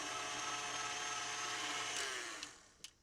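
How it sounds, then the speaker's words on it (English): Stand mixer beating softened unsalted butter, a steady loud whirring motor that winds down and slows to a stop near the end. "I have half a cup of softened unsalted butter in the mixer. So first thing I want to do is beat that up until it's nice and fluffy."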